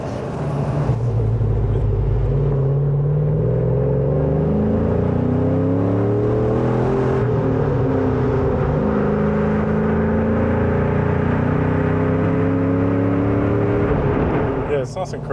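An LS V8-swapped Toyota Hilux cruises along with a loud, steady engine drone that rises and falls through gear changes, while people talk over it.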